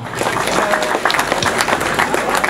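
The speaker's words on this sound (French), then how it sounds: "Wilson Maria, je vous demande d'applaudir." A crowd applauding steadily at a French Championship enduro motorcycle race, a dense wash of clapping that carries on throughout at a fairly loud level.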